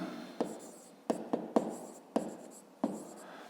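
A pen scratches across paper while a 5th-grade math exercise is worked out, in short irregular strokes and taps that sound close and quiet.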